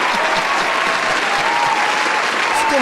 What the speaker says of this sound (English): Let's get a round of applause for Shaq